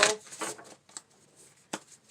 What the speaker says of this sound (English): I'm going to give a little shuffle